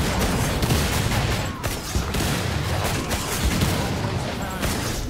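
Dense, continuous gunfire in co-op Killing Floor 2 on the Elysium map, a steady wall of overlapping shots and blasts at close range that never lets up, with faint voices under it.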